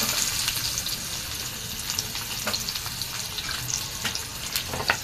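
Mustard seeds and garlic frying in a pan, a steady close crackling sizzle with scattered sharper pops throughout, no voices.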